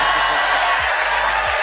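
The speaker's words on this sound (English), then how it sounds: "I know you're excited, but don't cheer too loud" A studio audience at a late-night comedy show cheers and applauds, a steady wash of crowd noise with no break, loud and close.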